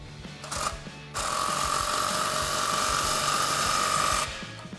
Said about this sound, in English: We'll take that 15 millimeter socket to tighten down our clamp